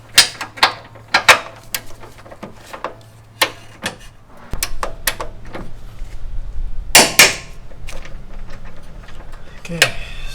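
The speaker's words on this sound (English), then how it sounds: "Gotta go ahead and torque this guy." A torque wrench tightens a bolt on a front chassis bar, giving a run of sharp ratcheting clicks and metallic ticks in uneven bursts, close by, with a faint low hum between them.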